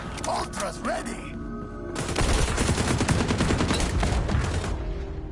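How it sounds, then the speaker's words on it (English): AK rifle fired from the hip in the video game xDefiant: after a moment of quieter game sounds, a loud, rapid stream of shots runs continuously for over three seconds, close and crackling, with scattered impacts. "The AK hip fire isn't that bad, is it?"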